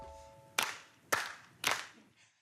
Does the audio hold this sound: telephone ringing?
no